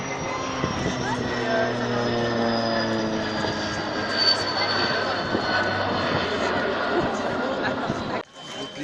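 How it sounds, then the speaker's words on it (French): Small propeller planes drone nearby at Lann-Bihoué, their engines steady and loud, under people talking. "C'est quoi les petits avions là à côté?"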